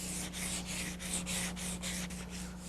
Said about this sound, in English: fine sand the primer